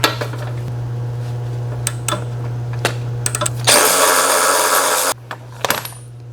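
A 13/16 socket works loose the spark plug on a Homelite 2500 179CC pressure washer: scattered metallic clinks and taps over a steady low hum, then a loud, dense burst of ratcheting lasting over a second before it stops.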